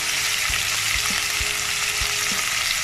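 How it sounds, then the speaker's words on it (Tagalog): Pork chicharon for lomi frying in hot oil, a dense steady sizzle with a few soft stirring knocks, close and loud with no talking. "Gagawin po natin siyang Checharon para pang ibabaw sa LOMI. Magmamantikain po natin siya."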